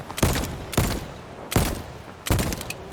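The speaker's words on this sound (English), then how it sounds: "shooting them with your pistol will just make them run faster and panic them" Four loud pistol shots from the video game VoidTrain, fired at fleeing animals, each a sharp crack with a short tail, spaced roughly evenly about three quarters of a second apart.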